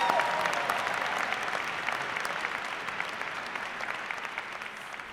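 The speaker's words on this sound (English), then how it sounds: "Another round of applause for Miss Bridges." An audience claps steadily, a dense wash of applause that slowly fades a little over several seconds.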